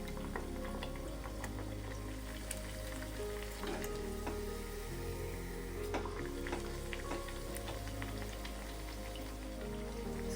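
Maddur vada crackling in hot oil, a continuous close sizzle with scattered pops and bubbling throughout.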